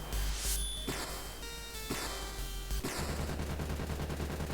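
Rapid gunfire from a Gatling gun in an indie video game, dense bursts of loud repeated shots with crashing impacts, continuing without pause and no talk over it.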